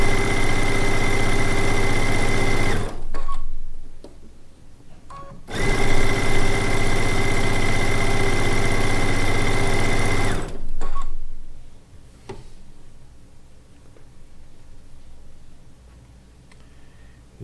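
A sewing machine stitches a Lacey Log Cabin quilt seam in loud, even whirring runs, two long bursts broken by short quiet pauses with fabric handling, then a few brief taps and quieter handling at the end.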